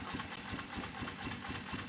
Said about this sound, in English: See how it's just barely running on that one cylinder?